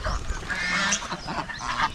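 Several turkeys call at once in a noisy, overlapping chorus of honking, gobbling cries, close by and continuous throughout.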